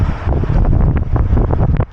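Cold wind gusts across a truck brake check area, buffeting the microphone with a loud, continuous rumbling roar that pulses throughout and drops away at the very end.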